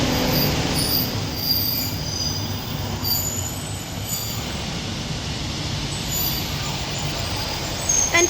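Northern Class 150 and 156 diesel trains at Birchwood station, a loud continuous rumble of rolling wheels with high squealing tones running under it, close by.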